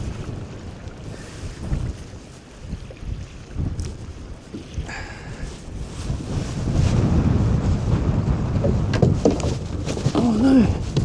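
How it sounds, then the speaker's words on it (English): Strong gusty wind buffets the microphone at a shoreline while squid fishing, a steady low roar that swells louder in the second half, with sea and waves washing underneath and no talking. "Oh, that wind's picked up so bad."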